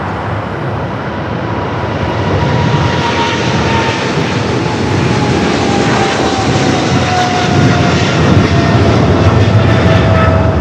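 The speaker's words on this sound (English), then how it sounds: "Full air cargo 777 freighter heading to Cincinnati," A full Boeing 777 cargo freighter takes off from LAX, its jet engines producing a loud, steady roar that builds gently over about ten seconds, with a faint whine sliding slowly downward under the rumble and no voices.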